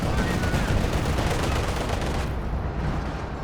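Howitzer shells rain down on a World War II battlefield in Company of Heroes 2, a dense, continuous rumble of blasts and crackling fire filling the whole stretch, then thinning slightly toward the end.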